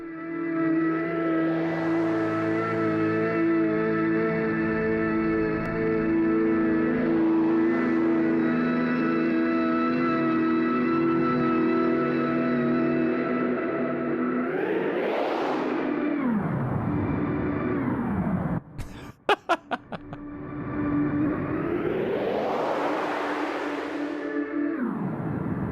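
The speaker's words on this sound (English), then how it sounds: "Changing the low cut of the reverb made a funny noise." Reverb from the AudioThing Octaves plugin swept by a shifting low-cut filter, producing a dense droning sci-fi tone with two rising-and-falling spaceship-like swooshes and a brief glitchy stutter between them, loud and with no voice over it.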